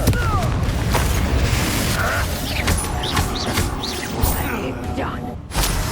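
Confringo fire spell bursting during a Hogwarts Legacy battle, booming hits and whooshes scattered among busy combat noise, with voices talking over much of it.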